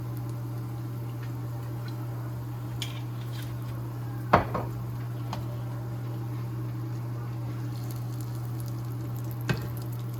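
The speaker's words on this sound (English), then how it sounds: "I'm going to put it right in the heated up avocado oil. Just like that. I'm going to brown it up." Chicken cordon bleu browns in heated avocado oil in a pan, a soft steady sizzle under a low hum, broken by a sharp utensil clack partway through and a lighter tap near the end.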